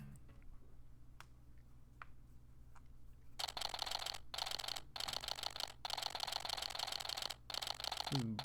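Rapid electronic typing clicks from the video game Phoenix Wright: Ace Attorney - Dual Destinies chatter in bursts over a low hum, with short gaps between runs, preceded by a few faint isolated ticks.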